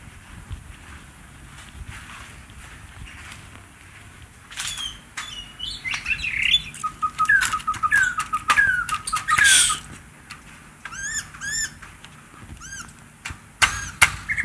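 Tame pet songbird calling, with bright chirps and short whistled phrases coming in bursts mid-clip, fairly close and clear over a low background hiss.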